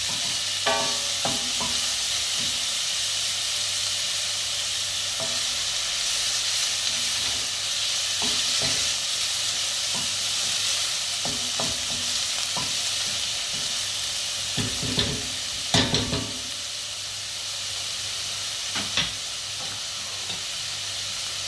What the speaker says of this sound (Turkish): rengi dönünceye kadar kavuralım